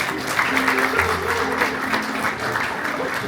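Audience applause at a live show in the Horseshoe Bar, steady clapping from a crowd that carries on throughout, with a low tonal hum and faint voices underneath.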